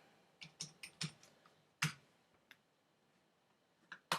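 Quiet, irregular clicks of a computer keyboard with a failing battery being typed, in short bursts with brief pauses between them, close by and with no talking.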